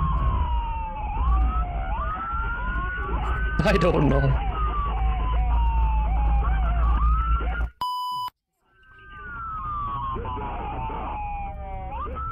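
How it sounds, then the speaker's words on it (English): A police siren wails and sweeps up and down continuously, loud and close, while people talk over it; a short electronic beep cuts in before the siren resumes. "it's sirens and a cop saying stop"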